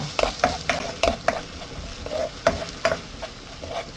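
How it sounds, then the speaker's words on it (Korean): Onion and minced garlic sauté in a pan over medium-low heat, with a steady soft sizzle broken by repeated close scrapes and clinks of a spoon stirring, and no talking. "중약불에서 은은하게 양파랑 마늘을 익혀주시는 거예요."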